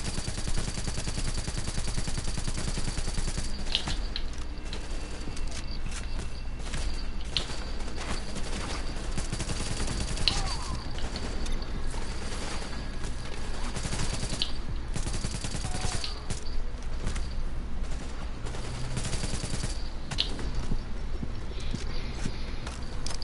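Gunfire fills The Division video game scene, dense rapid bursts and shots under a constant loud noisy bed of battle sound that carries on without a break and without clear talk.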